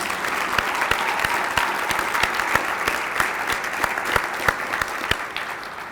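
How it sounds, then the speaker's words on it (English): A luncheon crowd at a Chamber of Commerce legislative event applauds the Doyle family, a steady wash of clapping with sharp individual claps standing out, moderately distant and even throughout. "I think we ought to give the Doyle family a big round of applause"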